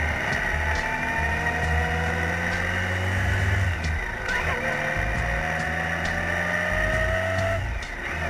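BMW K1 motorcycle engine heard close and loud through slow upshifts, its steady tone rising, breaking off and falling back to a lower pitch as each gear change drags, then climbing again toward the end.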